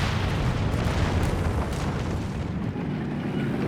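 Grenades go off in Company of Heroes 3 as a loud, rumbling burst of explosions, heavy booms blending into a continuous low roar with no speech.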